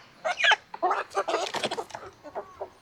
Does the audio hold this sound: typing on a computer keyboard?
no